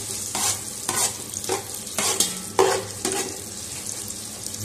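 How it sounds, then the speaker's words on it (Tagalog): Sautéing in butter in a pan, a close, clear sizzle with repeated scraping stir strokes roughly once a second, loud and near, with no talking. "Gisa lang natin sa butter guys."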